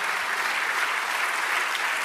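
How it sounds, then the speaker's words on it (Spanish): A church congregation applauding during a Spanish-language sermon, a dense, steady burst of clapping heard close and alone for a couple of seconds. "dale un aplauso grande a nuestro Dios"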